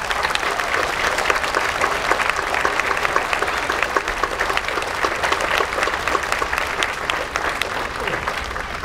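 A crowd at an outdoor bandshell ribbon-cutting ceremony claps steadily in sustained applause after a performance, dense and even throughout, with faint voices mixed in.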